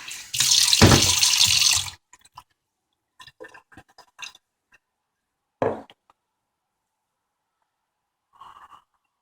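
Tap water runs in a steady, loud gush for about two seconds while tomatoes are washed, followed by scattered soft clinks and handling sounds and a brief splash.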